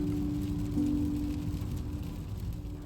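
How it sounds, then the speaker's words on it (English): Steady rain patters on a surface with a low background rumble, a constant wash of noise with no voices. "It is dark, it's raining, it's 6:30 at the Regatta Centre"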